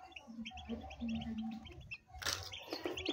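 Newly hatched chicks peep in a manual incubator, a run of thin, repeated high chirps close by, followed by a burst of rustling and handling noise as they are moved.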